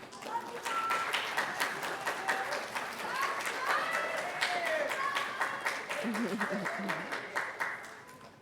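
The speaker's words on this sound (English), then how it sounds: "Graduates, please stand and turn and give your families a round of applause to thank them for all" Graduates at a school graduation ceremony clap for their families, brisk crowded clapping in a large hall with voices and cheers rising over it throughout.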